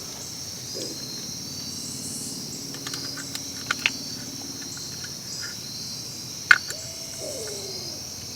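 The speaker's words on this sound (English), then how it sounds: "you can hear an owl." A faint owl hoots at night at a campsite, a couple of low distant calls almost buried under steady insect and cricket chirring, with a few small clicks close by.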